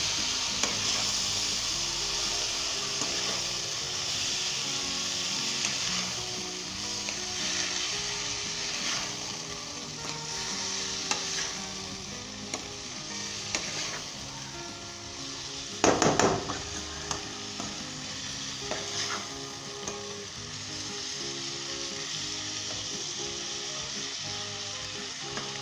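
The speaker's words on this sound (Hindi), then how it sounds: "हम इसके अंदर अपने मोगरे शामिल करते हैं।" Moongray pods are stirred into a potato and spice mix frying in a pan, with a continuous sizzle, soft scraping stirs and a brief clatter of the utensil partway through.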